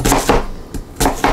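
Garlic cloves and onion being chopped with a knife on a board: sharp close knocks in quick pairs with a short gap between, loud and without talk.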